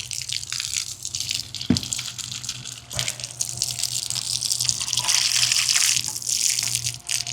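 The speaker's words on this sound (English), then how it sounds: "now we have the filtered water coming out like because we already rinsed it. Now we can fill this one up." Filtered water from an iron filter system runs steadily into a container, a continuous gushing, splashing flow with a couple of brief knocks, no talking.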